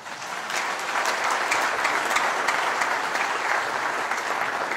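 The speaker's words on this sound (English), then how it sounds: "Allow me to propose a big applause for all of them together." Big applause from the audience at a closing ceremony for organizers and participants, a dense, even roar of clapping that holds steady from start to finish.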